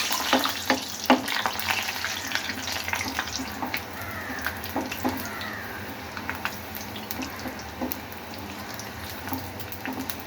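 Gram flour pakoda batter sizzles and crackles steadily in hot oil, with frequent bubbling pops and the scrape of stirring running through the whole stretch, no voices present.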